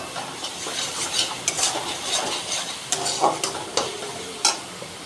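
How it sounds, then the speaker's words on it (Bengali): Spice paste of ground spices and Kashmiri chilli powder being stirred and sautéed in oil in a pan, a steady close sizzle with repeated scraping stir strokes and light clinks of the spoon against the pan. "এইটা এবার ভালো করে কষাবো।"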